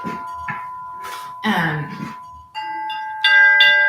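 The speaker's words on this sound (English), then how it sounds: "Let's play the chimes." Chimes ring out in a few clear, resonant strikes that sustain and overlap, with short bursts of a voice in between at first, then louder layered ringing toward the end.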